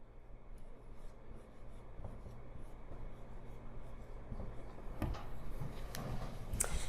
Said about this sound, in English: So let's all write nurture by our N.